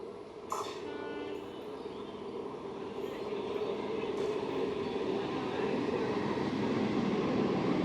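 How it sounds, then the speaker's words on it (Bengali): A Midnapore–Howrah EMU local train rumbles steadily into Madpur station, its broad mechanical drone building gradually and growing louder toward the end, with a few faint clanks near the start. "মিদনাপুর হাওড়া লোকাল এখন মাদপুর স্টেশনে প্রবেশ করছে"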